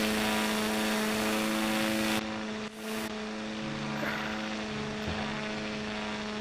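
A slow propeller plane drones steadily in a QWOP flight video game, a constant engine hum with a brief dip partway through, near and continuous with no talk.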